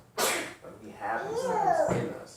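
One sharp, close sneeze bursts out at the start, and a voice keeps talking right after it.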